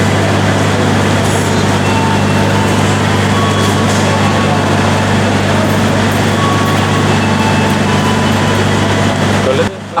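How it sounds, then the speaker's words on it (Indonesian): A train rolls into busy Yogyakarta station with a loud, steady low engine rumble and a broad wash of rail noise that holds throughout before cutting off abruptly at the end. "Akhirnya kereta yang ditunggu pun tiba."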